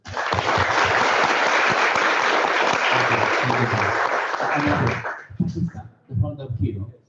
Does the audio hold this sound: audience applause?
yes